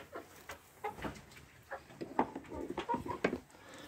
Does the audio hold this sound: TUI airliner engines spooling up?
no